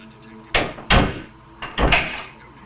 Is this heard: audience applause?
no